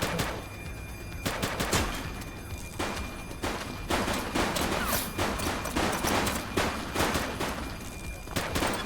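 Rapid gunfire from a police shooter video game set in a city precinct, with dense bursts of shots cracking in quick succession across the whole stretch, fairly loud and without speech.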